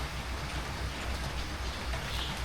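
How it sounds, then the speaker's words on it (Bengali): Rain begins falling over a village home, a dense, even hiss of drops on surfaces that holds steady and moderately loud throughout, with no voices. "বৃষ্টি তো শুরু হয়ে গেল"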